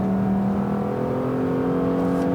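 A 2018 Lexus GS 450h F-Sport hybrid with a V6 and CVT accelerating, a steady, droning engine hum holding a nearly constant pitch, loud and close from inside the car with no talk.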